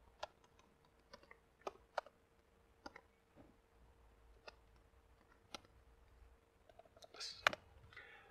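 Scattered keystrokes on a computer keyboard, sparse quiet clicks with irregular gaps and a small cluster near the end, close and faint over a low hum as an HTML H2 heading tag is typed.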